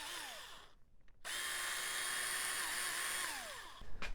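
A power drill with a 5/16 bit drills through wood, whirring steadily at high speed, with a short pause and spin-down before it revs up again and keeps running.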